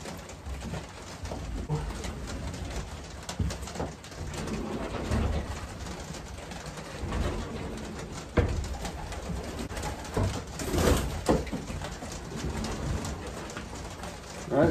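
A pigeon coos softly in low, repeated throaty calls against a rustling, noisy background, heard up close.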